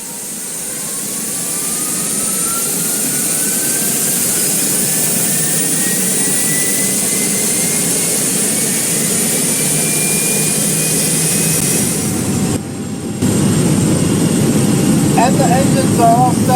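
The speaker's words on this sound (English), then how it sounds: "I'm going to turn on the engine. I'm going to throttle it up" Boeing 737 jet engines starting and throttling up in the GeoFS flight simulator, a rising whine and roar that builds steadily over many seconds, loud and close, with a brief dropout near the end.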